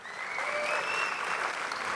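Steady audience applause at a debate event, a dense wash of clapping hands that swells and holds evenly for a couple of seconds with no talk over it.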